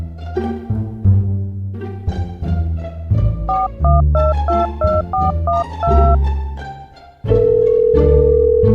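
Telephone keypad dialing a number to call an office, a rapid run of paired dialing tones over background music, ending in a steady ringing tone, loud and close.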